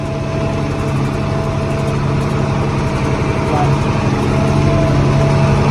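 A tractor engine idles loudly and steadily throughout, a constant low rumble with a faint tonal whine, close by.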